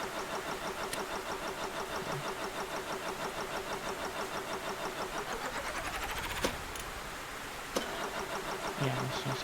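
A car engine in the Stormworks building game starts up on its own and idles, a continuous, rhythmic mechanical pulse with a steady ticking beat, interrupted by a couple of sharp clicks toward the end.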